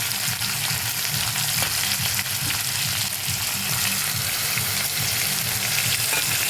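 Cauliflower and potato pieces fry in oil in a pan, already lightly browned with spices about to go in. A steady, close sizzle and crackle runs throughout with a low bubbling undertone and no talking.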